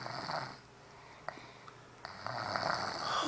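A five-year-old child snoring loudly, with raspy, nasal breaths that swell, fade into a brief quiet stretch, then return strongly, heard up close.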